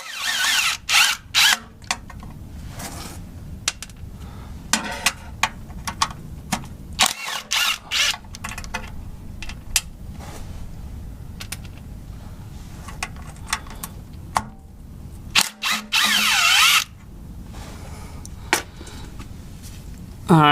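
Power tool removing 10mm bolts on a Dodge 2nd gen Cummins, bursts of high whirring at intervals with quieter clinks and handling noises in between, near and fairly loud.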